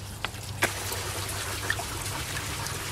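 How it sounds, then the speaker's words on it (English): Water trickling and gurgling steadily through bell siphons in an IBC aquaponic grow bed, with a low continuous hum underneath and a few faint drips and splashes. "sounds of those siphons in the background are music to my ears"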